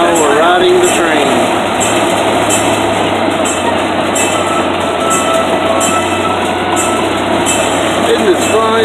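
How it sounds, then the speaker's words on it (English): A small ride-on train rumbles steadily with a continuous rolling clatter, loud and close throughout, with voices faintly audible over the running noise. "Now we're riding the train."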